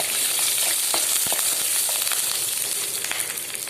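Dried red chillies fry in hot oil alongside garlic and curry leaves in a clay pot, a close, continuous sizzle scattered with crackles and the scrape of stirring, with no voices.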